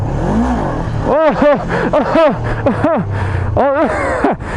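A Honda CB500F motorcycle revs in first gear: a close, throaty engine climbs and drops in a string of quick rising and falling blips, repeated several times with short gaps between.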